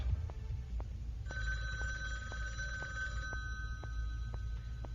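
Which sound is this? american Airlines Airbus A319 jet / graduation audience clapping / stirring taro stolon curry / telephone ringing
telephone ringing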